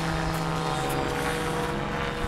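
A Logo 600 RC helicopter hums steadily while falling during a flight test, a continuous droning rotor and motor tone with tonal whine, moderately close and unbroken, with no talk over it.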